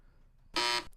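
A game show buzzer gives one short, harsh, loud blast lasting about a quarter second over a faint low background.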